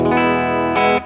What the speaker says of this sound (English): This is the sound of the Orange Super Crush 100.